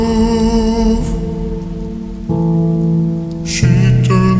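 Continuous falling rain mixed under a slowed, heavily reverberant pop song, its soft hiss running beneath the music from start to finish.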